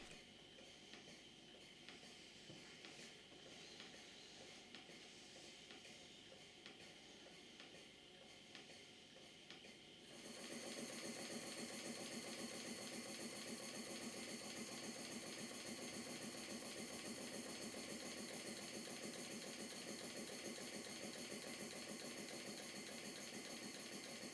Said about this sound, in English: the beam engine plant in steam